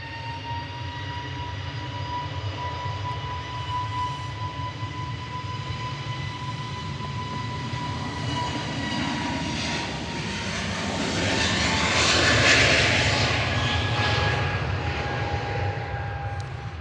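An EasyJet Airbus A320neo departs Manchester Airport, its jet engines a loud, steady roar with a whining tone that swells toward a peak near the end and stays strong throughout, with no voices.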